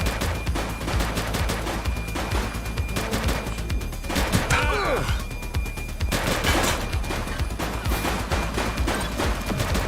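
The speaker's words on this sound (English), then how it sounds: "Shots fired!" Shootout in the police video game The Precinct: sustained, dense automatic gunfire with rapid overlapping shots and impacts, loud and continuous throughout, with no voices heard.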